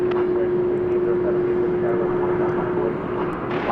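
A fixed-wing airliner powers up for takeoff on runway 18 left at DFW Airport, a loud, steady engine roar with a sustained droning hum, heard from nearby without talk.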